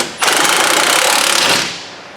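An impact wrench rattles in one loud, continuous burst of about a second and a half, tightening wheel hub bolts on a 2005-2011 Dodge Dakota. It is close and harsh, then cuts off and fades.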